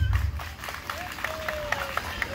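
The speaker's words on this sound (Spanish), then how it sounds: "Aplausos para el de la peluca negra." A crowd applauds at a Torito Pinto festival show in El Cerrito, Usulután, El Salvador, with dense clapping beneath a voice and music, moderately loud and continuous with scattered sharper claps.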